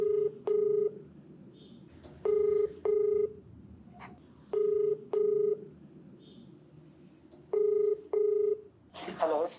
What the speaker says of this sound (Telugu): మేడం మీరు ఓకే అంటే ఒకసారి కాల్ చేస్తారు.